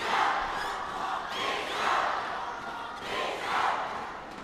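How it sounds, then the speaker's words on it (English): Crowd of supporters in red cheering at a men's singles badminton match at the 2014 Asian Games, rising in rhythmic surges of chanting and roaring, filling the arena at moderate level. "Supporters in red have got something to cheer about at the moment"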